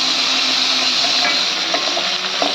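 Fish sizzles steadily in a hot pan at home, giving a continuous close hiss with a few light stirring clicks and no talking.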